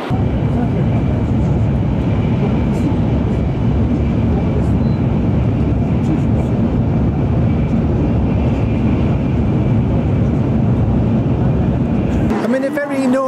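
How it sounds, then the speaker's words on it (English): Loud, steady roar of a Japanese bullet train at a busy railway station, a dense broadband rumble holding for about twelve seconds before cutting off, with a voice speaking at the very end. "Just waiting for my bullet train to arrive."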